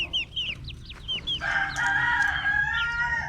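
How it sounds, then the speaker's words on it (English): Young chicks in a coop peep in quick high chirps, then a rooster crows in a long sustained call, close and clear with no talk. "Who doesn't love a chicken?"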